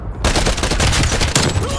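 An AK74u rifle firing in Call of Duty Black Ops Cold War, one loud, close, continuous automatic burst that starts abruptly and runs to the end.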